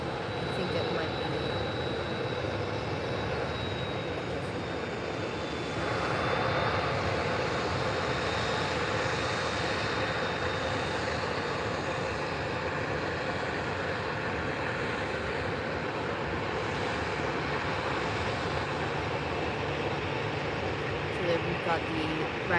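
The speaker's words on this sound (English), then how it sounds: "we've got the Ryanair taxiing to a runway" A Ryanair airliner taxis toward the runway at Faro Airport, its engines a steady broad roar with a faint high whine, continuous and moderately distant, while people talk over it.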